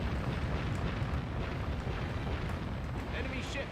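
Heavy rumbling blast of a warship sinking in the naval combat game Warship Gunner 2, a sustained loud low roar filling the whole stretch with steady noise throughout.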